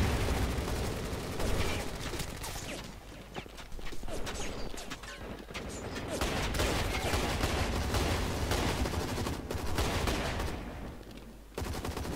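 Rapid bursts of automatic gunfire from the Hazard Ops video game, in a Nightmare challenge match, fill the clip with dense, continuous loud shooting and brief pauses.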